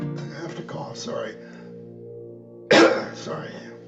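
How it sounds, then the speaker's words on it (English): A person coughs once, sharply and close, after a stretch of chanted singing with a sustained drone in a devotional bhajan and kirtan setting. "I have to cough sorry"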